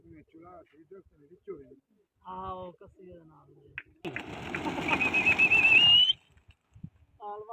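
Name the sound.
racing pigeons released in a pigeon flying contest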